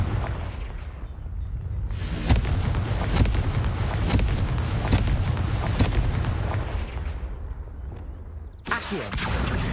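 A Confringo fire spell blasts in a video game, a sudden loud burst around two seconds in with a roaring rumble that slowly fades, then another sharp blast near the end.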